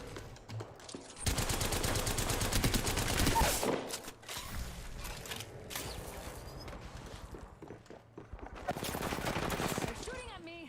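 Sustained automatic gunfire in the Apex Legends battle royale, dense rapid bursts running loud and close through most of the stretch, with a pause in the middle before another heavy burst near the end.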